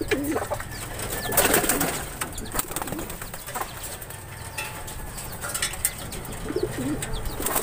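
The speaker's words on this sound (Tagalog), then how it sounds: "So pumasok na rin si N2. Ayan, so bali kumakain na sila dyan" Pigeons in a loft, birds shuffling and flapping as they come in to feed, with soft cooing and wingbeats at moderate distance over a steady low background hum.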